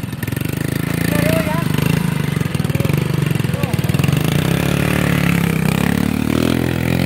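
A motorbike engine runs steadily and loud throughout, its low droning hum rising slightly toward the end as if idling up, with people talking over it.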